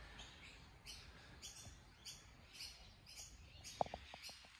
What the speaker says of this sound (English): Hopefully you can hear those birds in the background.